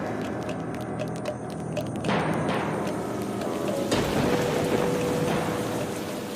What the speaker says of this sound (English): heavy rain falls on southern Niger